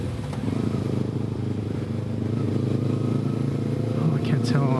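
A motorcycle with two exhausts passes on the road, a loud steady engine drone with a rising whine near the end, heard from a rider's position amid wind rumble.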